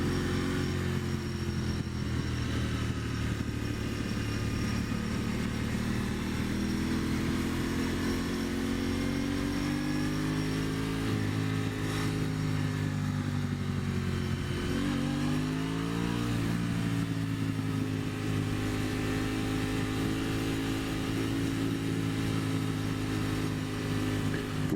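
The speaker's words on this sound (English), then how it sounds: "Just ring your bike, just ring the engine out until it screams." An Aprilia Tuono motorcycle engine revs hard and steadily for a long stretch, a loud, close mechanical roar with rising and falling pitch as the throttle changes.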